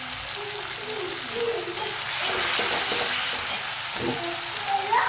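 Methi greens (bhaji) sauté in a pan for matar malai methi, a continuous soft sizzle under irregular stirring scrapes and light clatter, nearby and moderately loud, with no voices.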